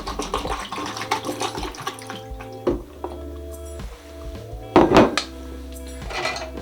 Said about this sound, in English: You can pour it in there.